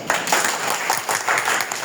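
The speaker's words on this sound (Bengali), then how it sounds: "আমরা সবাই এর জন্য করতালি দেই।" A classroom of students at a women's college claps together, a dense burst of many hands with uneven pulses that rise and fall over about two seconds, close and lively with no talking.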